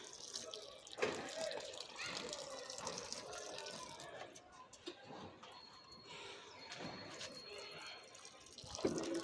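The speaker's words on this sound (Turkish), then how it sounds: "Şöyle çember bir şeklinde çember çizer gibi şu şekilde suyumuzu veriyoruz." Water is poured in a circle around pepper seedlings in garden soil, producing a faint trickling and splashing with scattered drips, quiet and close, with occasional low background sounds.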